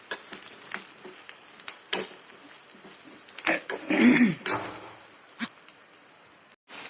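Red chilli and spices roasting in hot oil in a pan for a dal tempering, giving a patchy, low crackling sizzle with a few louder bursts and utensil scrapes, close by with no talk.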